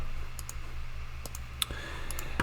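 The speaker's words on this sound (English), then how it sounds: "by clicking this green code button and clicking this copy button." Computer mouse clicking on on-screen buttons while setting up a development environment: a handful of short, sharp clicks scattered across a quiet background with a low steady hum, fairly close and soft.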